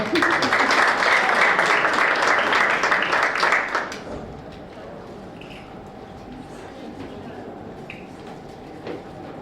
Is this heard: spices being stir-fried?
no